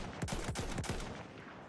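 Rapid bursts of close gunfire from the Battlefield 1 video game, a fast rattling volley of several shots in the first second that trails off into a busier, fainter battle din.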